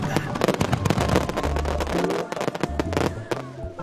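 A firework explosion sound effect in a children's craft show: loud, dense crackling bursts and pops fill the clip, layered over steady background tones.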